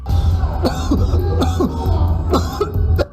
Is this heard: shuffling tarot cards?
no